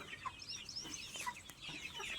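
Chickens on a farm cluck and chatter in a steady, busy stream of short calls, with no talk over them.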